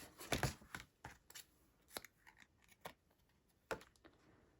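Scissors snipping an adhesive strip during card-making assembly, a run of sharp close cuts and clicks spaced irregularly with quiet gaps, no talk.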